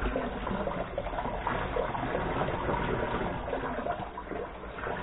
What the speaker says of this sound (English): Pour some water out.